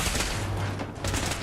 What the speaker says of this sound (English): I think they're grenades.